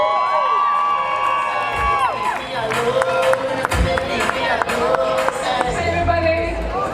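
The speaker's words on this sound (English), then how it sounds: "Round of applause." An outdoor crowd at the Caribana kick-off outside Toronto police headquarters cheers and whoops with some clapping, the noise tangled with overlapping voices and tonal melodic sounds, lively and fairly loud.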